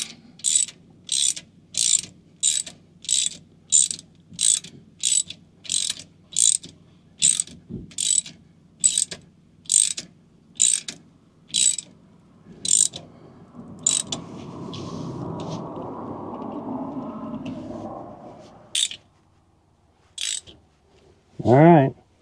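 A ratchet snugs the bolts on a Dynatrac axle cover of a Jeep Wrangler 392: a steady run of sharp, close clicking bursts in a regular rhythm, then a softer rustling, scraping stretch and a couple of final clicks.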